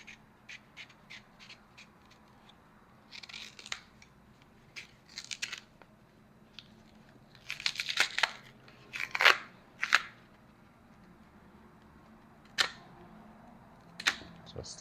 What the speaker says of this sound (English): Now I'm going to peel the plantains on.